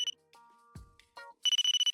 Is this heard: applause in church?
no